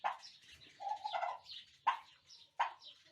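A Ronquières turkey, a Belgian breed, gives soft, quiet clucking calls much like a chicken, several short notes with two sharper bursts near the end.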